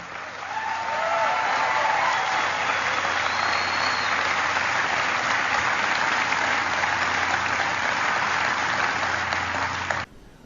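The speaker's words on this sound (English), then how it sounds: "And everybody cheers" Steady, dense applause from a large crowd, with cheering mixed in, continuing loudly for about ten seconds before cutting off abruptly.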